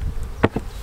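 Honeybees buzz close by at an April hive inspection, with a short loud burst of buzzing and a second fainter pass against a low background hum.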